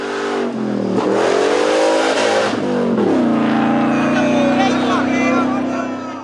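A rally car engine revs hard on a stage, rising in pitch through gear changes with a loud, close, continuous roar and faint voices in the background.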